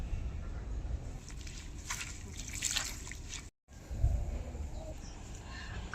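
Chopped potatoes, onions and green chillies being washed in water, with soft, faint sloshing and dripping, a brief silent gap, then more splashes close by.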